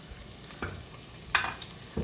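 Vegetables for broccoli cheddar soup sauté in a pot with a soft sizzle, interrupted by a few quick stirring scrapes.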